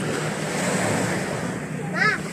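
Sea waves wash near a seaside gate at night in a steady, broad roar mixed with wind rumble, with a brief voice near the end.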